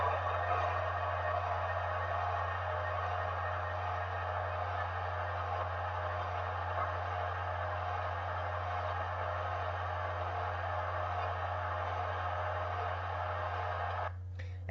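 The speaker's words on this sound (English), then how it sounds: "what I've recorded here is the sound of an escalator running" An escalator at Baker Center runs continuously, a steady mechanical hum with a strong low drone and broadband machine noise holding level throughout, then briefly dipping near the end; no one speaks.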